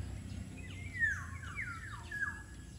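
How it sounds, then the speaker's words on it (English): Birds sing on a farm lot, their high, thin whistled phrases sliding downward over a low rumble of background noise, fairly faint and repeating several times. "And listen to the birds, guys."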